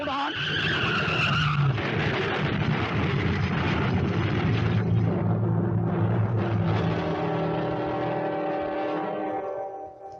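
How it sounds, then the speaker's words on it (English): Cars skidding on an icy road in a radio drama: a long, loud tyre screech with sliding, rising and falling whines that fades out at the end. "two cars slide into each other, something that usually happens only in midwinter"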